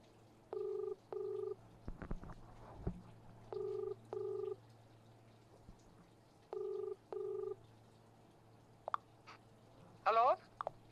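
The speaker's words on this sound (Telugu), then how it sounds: "కాల్ రింగ్ అవుతోంది." A phone call rings out on the line: three paired ringback tones repeat at even intervals, with scattered clicks and handling noises between them.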